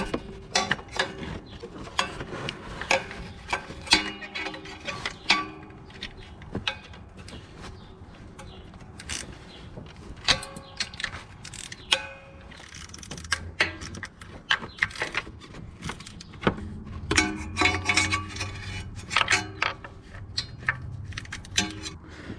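Ratchet with an 8mm socket working the valve cover bolts on a CFMOTO 800/1000/Z950 engine, giving irregular rapid clicking bursts at close range with metallic clatter and handling noise throughout, no talking.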